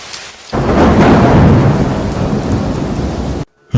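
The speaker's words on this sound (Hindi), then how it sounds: "तभी बारिश शुरू हो गई।" Heavy rain falls steadily on a street in Fatehpur, a dense loud hiss with a deep thunder-like rumble underneath, starting abruptly and cutting off near the end with no voices.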